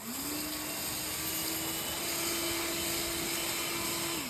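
An EGO Power+ LB7654 56-volt cordless leaf blower starts with a rising whir, then runs as a steady, loud, close electric fan roar and winds down at the end.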